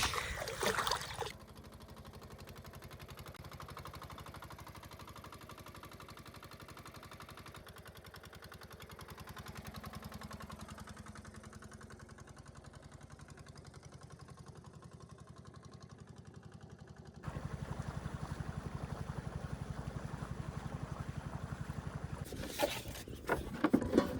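A motor boat engine drones steadily for a long stretch, getting louder and rougher near the end, with water and wind noise around it.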